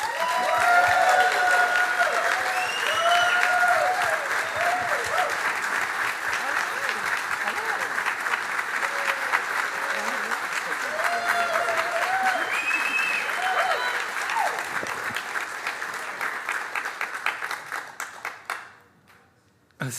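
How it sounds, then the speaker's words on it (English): Sustained audience applause fills a gala hall as a guest is welcomed to the stage, dense and steady with cheers and whoops mixed in, then thinning and fading out near the end. "Please give a round of applause and welcome my friend Kelsey Louie to the stage"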